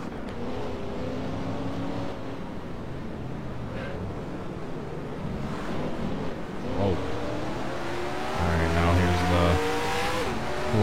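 Race car engine held at full throttle along a track's longest straight, rising pitch through several upshifts, loud and steady from onboard, building to a strong roar near the end.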